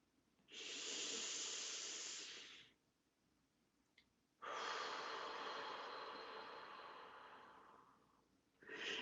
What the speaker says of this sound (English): we'll inhale again. And exhale.